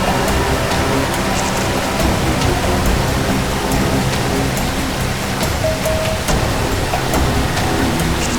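Rushing water from a waterfall makes a steady, loud, broadband roar that runs unbroken and close, with no voices over it.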